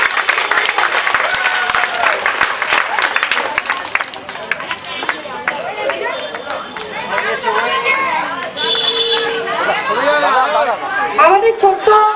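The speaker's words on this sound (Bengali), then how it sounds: "সবাই একটু জোরে করতালি দিয়ে ওনাদের অভ্যর্থনা জানান" A function audience applauding loudly, dense clapping mixed with crowd chatter, then thinning into scattered claps and voices near the end, close and continuous.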